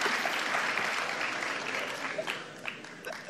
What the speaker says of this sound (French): Round of applause for 27.